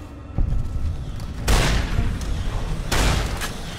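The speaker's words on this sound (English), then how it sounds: "I shot the top of his head off" Two loud, booming gunshots in the Fallout: New Vegas wasteland, spaced about a second and a half apart, each leaving a brief rumbling tail.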